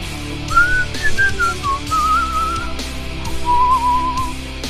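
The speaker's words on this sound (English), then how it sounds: "Whistling is very slowly blowing in and out of a hole you create" A person whistles a wavering, sliding melody up close, loud and alone, over a steady background hum with faint rhythmic thumps.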